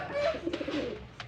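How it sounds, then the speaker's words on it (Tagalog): Pigeons being paired give a short low coo close by, a soft throaty warble with faint rustling after it. "Yan mga kalapatids."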